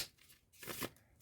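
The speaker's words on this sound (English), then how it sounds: "And one more time I will shuffle it too." A deck of playing cards being shuffled by hand during a card trick, a quiet close riffle with two short bursts of fluttering card noise.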